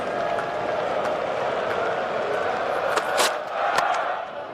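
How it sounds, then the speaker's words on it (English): A large cricket crowd at Lord's during a 2019 Ashes Test roars steadily behind bowler Archer, a sustained distant cheer with scattered shouts and claps rising near the end. "The crowd are behind Archer."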